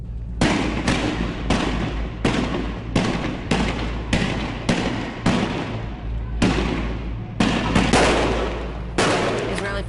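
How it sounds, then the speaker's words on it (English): Tear gas launchers firing at street protesters outside Jerusalem, Israel: a rapid series of loud, sharp blasts and bangs repeating about every half second to second, echoing over a constant rumble and crowd noise. "Forces firing tear gas to disperse the people protesting the Israeli military operation."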